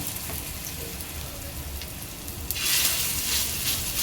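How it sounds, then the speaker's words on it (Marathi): Kevla vadi batter drops into hot oil and frying sizzle swells into a bright, steady crackle after a couple of seconds, over a constant background hiss with no voices. "तेल चांगलं गरम झालेलं आहे, तर ह्यामध्ये आपल्याला वड्या सोडायच्या आहेत"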